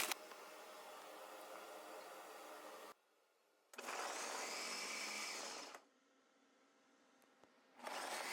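A blender makes a smoothie in bursts, whirring loudly for a few seconds, stopping, whirring again, then restarting after a quiet pause, with no voices.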